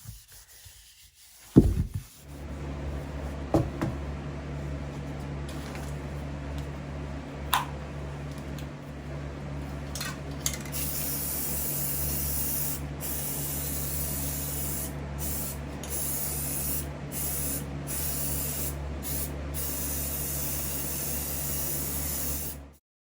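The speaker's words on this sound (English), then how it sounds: "I'm going to spray paint it black first" An aerosol can hisses in long continuous spray bursts, close up, after a brief rattle at the start, with short pauses between sprays.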